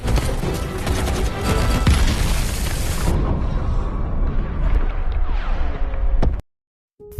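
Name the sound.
artillery fire explosions in film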